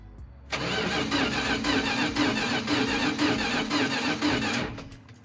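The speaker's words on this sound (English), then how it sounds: "We know it cranks, so that's a good sign." An abandoned 1985 Dodge D150 pickup truck's engine cranks in a steady, rhythmic churn for about four seconds without catching, then the starter stops. The sound is loud and close.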